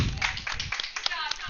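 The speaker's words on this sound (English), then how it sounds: "Can I get a round of applause for Thomas here?" A short burst of clapping breaks out at a robotics competition finals for a young competitor. Quick, close hand claps patter for a moment while a voice speaks over them.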